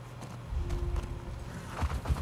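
Horse hooves clip-clop at a steady walking rhythm while riding in The Last of Us Part II, close and fairly loud over a low rumbling background for a couple of seconds.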